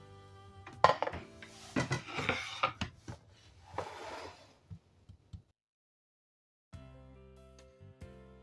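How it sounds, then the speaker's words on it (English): A knife chops through an onion on a board while preparing Nigerian jollof stew, with a quick run of close, sharp knocks and scraping strokes, then a pause and a few softer taps. "I'll cut the remaining one."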